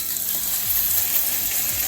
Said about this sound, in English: It should be sizzling, right?